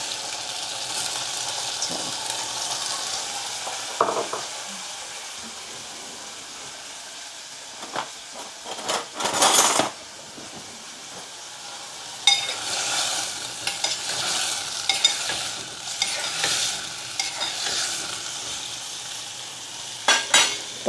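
Carrot halwa cooks in a pan, with soft steady sizzling and hiss punctuated by intermittent scraping and knocking of a spoon stirring, close by and without talk.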